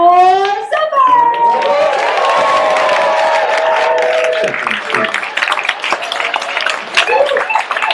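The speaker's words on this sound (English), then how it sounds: "Can we get a big round of applause for Zephyr?" Summer camp talent show crowd cheering and clapping for a performer named Zephyr, with loud shouts and whoops over a rising bed of applause and children's voices, close and energetic throughout.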